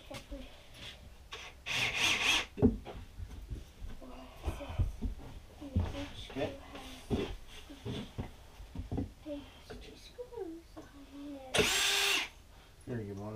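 Power drill driving screws into a wooden raised planter, several short bursts of whirring spread across the span with a louder burst near the end, mixed with nearby talk and handling noise.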